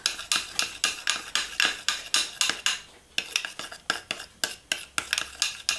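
A utensil stirs a mixture in a pot, scraping and clinking against the sides in a steady, quick rhythm of about two strokes per second, close and clear, with one brief pause midway.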